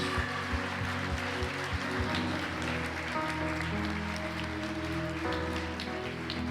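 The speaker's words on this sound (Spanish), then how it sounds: "Démosle un aplauso también a ellos." Steady applause from a church crowd at a children's performance fills the space, dense and continuous, with a low sustained tone and faint rhythmic thumps underneath.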